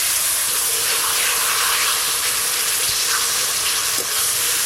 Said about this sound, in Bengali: এবার সেদ্ধ করে জল গেলে রাখা কচু শাক দিয়ে দেব।